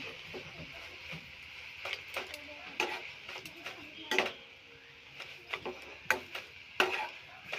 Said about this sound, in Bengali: একসাথে মিলিয়ে আমি নেড়ে চেড়ে নিচ্ছি